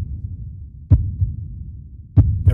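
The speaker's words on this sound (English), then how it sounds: "a heartbeat almost repeats itself, but it changes each time" Heartbeat thudding low and soft, with a few muffled beats spaced irregularly in a quiet setting.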